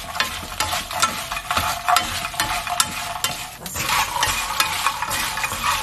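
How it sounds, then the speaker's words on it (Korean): Chili peppers coated generously in oil are stir-fried for Korean bugak, giving a close, steady sizzle with repeated scraping and stirring clinks of a utensil against the pan throughout. "그럼 이렇게 볶으시면 돼요"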